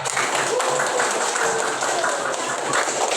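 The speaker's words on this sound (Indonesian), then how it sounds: "Tepuk tangan dong kawannya" Fourth-grade pupils clapping together in a classroom, a dense, even patter of many hands that stays lively for the full few seconds.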